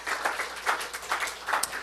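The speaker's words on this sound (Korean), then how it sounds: "그렇게 하실 하나님께 박수 올려드려요" A church congregation claps together during a Sunday service in a roughly steady, faint patter of hands lasting under two seconds, with no voices over it.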